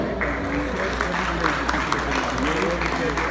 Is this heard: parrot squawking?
no